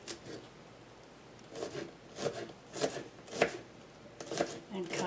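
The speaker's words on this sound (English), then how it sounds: "I like to do 1 clove of garlic per artichoke. So we're going to slice that up." Knife slicing a clove of garlic finely on a cutting board while making Italian stuffed artichokes, with a series of short, crisp cuts spaced irregularly and moderately close, some speech-like murmur underneath.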